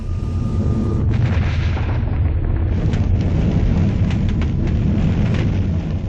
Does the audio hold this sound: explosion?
yes